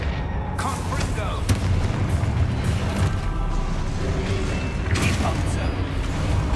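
Confringo blasting-spell explosions in the Hogwarts Legacy video game land as dense booming bursts over a continuous rumbling battle din, with a voice calling out over it.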